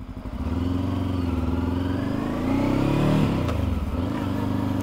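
A 2023 Voge 525 ACX motorcycle being ridden gives a steady, close engine drone that rises briefly as it revs and then eases back, with no talk heard.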